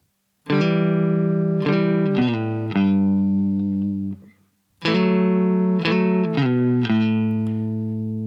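Distorted electric guitar chords strummed in a steady rhythmic pattern, ringing out loud and close, with a brief pause before the pattern repeats.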